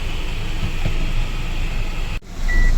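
Heavy rain drums on a big truck driving along a road near Tiptur, making a steady, loud broadband wash over low engine rumble, with a brief dropout near the end followed by a short high beep; no one talks.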